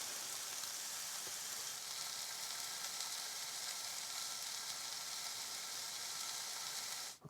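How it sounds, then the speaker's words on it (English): Steady, dense sizzling of chicken frying and smoking in a hot pan, loud and continuous with a crackling hiss, then cutting off abruptly at the end. "look at the smoke coming off them chicken sizzles"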